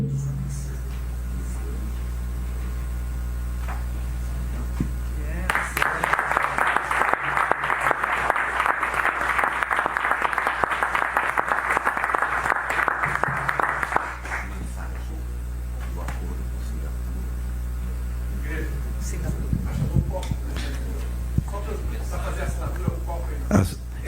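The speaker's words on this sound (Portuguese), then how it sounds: "que nós temos que aplaudir muito" Sustained applause from a crowd at an official signing ceremony breaks out, claps rattling steadily for several seconds before fading back into a quiet room with a humming background.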